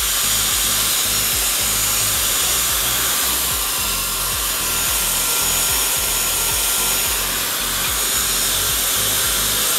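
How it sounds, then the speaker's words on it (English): A hair dryer blows steadily and loudly for the whole stretch while ink and paper on an industrial-style journal page are dried, with a constant airy roar and no talking. "Just getting my hair dryer for 2 seconds."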